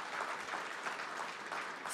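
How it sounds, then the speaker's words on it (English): An audience at a city infrastructure announcement gives a round of applause, a steady wash of clapping heard from some distance at moderate level throughout. "Please give Pepco a round of applause."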